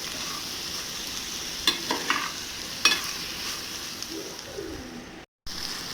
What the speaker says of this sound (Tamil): இப்போ இது நல்லா வதங்கணும். இந்த சட்னிக்கு தேவையான அளவு உப்பு சேர்த்துக்கலாம். எல்லாத்தையும் நல்லா வதக்கி விட்டுருங்க.